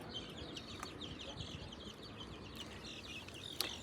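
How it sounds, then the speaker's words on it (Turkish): Sussex chicks about 20 days old chirp and peep continuously in a busy, overlapping chorus, close to the microphone, with one sharper call near the end. "Bunlar bizim yaklaşık 20 günlük Sussex civcivlerimiz."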